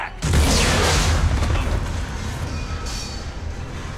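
A loud, close bomb blast in the Mass Effect Tuchanka mission hits with a sharp onset and rolls into a long, fading rumble of debris.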